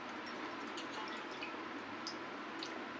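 Half a kilo of chicken is washed in water, with faint, soft splashing and dripping throughout the short stretch. No one speaks.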